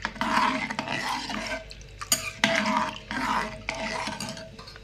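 A spoon scrapes and stirs a mixture of jaggery and pepper powder in a bowl, in repeated rhythmic strokes with short pauses between them, close and clear with no talk.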